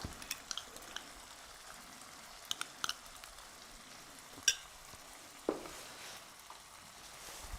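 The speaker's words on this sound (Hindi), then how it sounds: "और इसको अच्छे से मिक्स करेंगे और अब हम वापस से इसको भूनेंगे" Tomato masala is stirred and fried in a pan, a soft sizzle under scattered clicks and scrapes of the spoon, with a couple of sharper knocks partway through.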